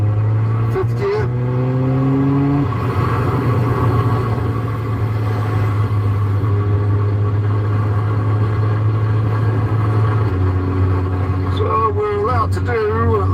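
A car cruises in fifth gear along a dual carriageway, its engine holding a steady low drone with smooth road noise, the pitch rising gently as it winds on; a voice speaks briefly at the start and end.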